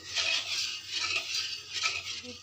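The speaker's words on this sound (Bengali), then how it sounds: "দই দেওয়ার পর আমরা ভালো করে মিক্স করে নিচ্ছি এবং ভালো করে কষিয়েও নিচ্ছি" A utensil stirs yogurt into an okra curry in a pan on low heat, making repeated close scraping and clinking strokes in a loose rhythm, with no talking.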